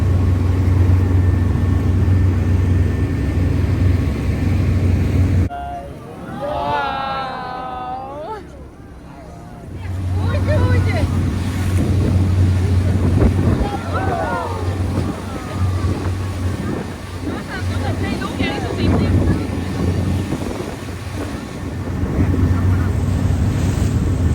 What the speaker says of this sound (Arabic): احنا ركبنا مركب من دولت عشان نعمل الكروز بتاع الويل واتشنج